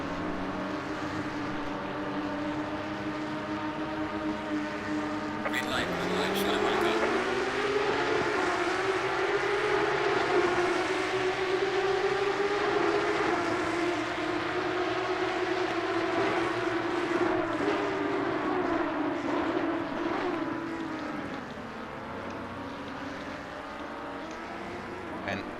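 Porsche Cup GT3 race cars leave the grid at Imola in a racing video game, a dense pack of engine drones whose harmonic whine climbs sharply at the start and holds loud and steady before easing off near the end.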